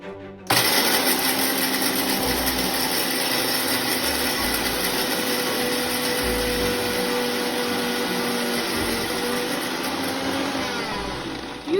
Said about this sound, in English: Out of 4 ilachis, I have taken ilachi seeds and I'm just adding it. And I'm going to grind them.